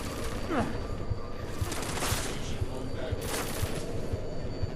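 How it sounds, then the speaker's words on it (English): Gunfire rattles in the video game Deus Ex Mankind Divided during a Prague street scene, a rapid regular burst of muffled shots over steady background noise, with a voice speaking partway through. "Why am I getting shot at?"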